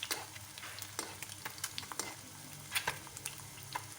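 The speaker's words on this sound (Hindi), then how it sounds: "अंडा हमारा फ्राई हो रहा है।" An egg fries in hot oil for a paratha breakfast, giving a quiet, steady sizzle broken by sharp crackles and pops, with a few soft scrapes as a spoon bastes oil over it.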